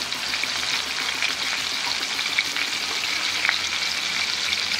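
Steady, loud sizzling of steak frying in a hot pan, a dense crackling hiss with occasional sharper pops, no voices.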